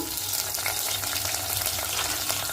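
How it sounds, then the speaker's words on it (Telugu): Curry leaves, onion and green chilli frying in oil for a village-style brinjal and chana dal curry, giving a steady, dense sizzle that stays close and even throughout with no voices. "ఉల్లిపాయ పచ్చిమిరకాయ కూడా వేసేసుకున్నాము"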